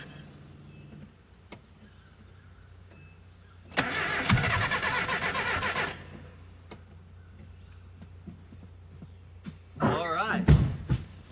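An abandoned 1984 Nissan/Datsun 720 truck engine cranks and catches, roaring loudly for about two seconds before dying back, with a second brief rough burst near the end; a voice shouts faintly in between.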